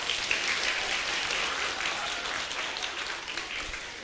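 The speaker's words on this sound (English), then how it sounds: "Give yourself a round of applause," A large audience at a motivational talk claps together in a sustained round of applause, an even, hissy wall of clapping heard from a distance and fairly quiet, steady throughout with no clear pauses.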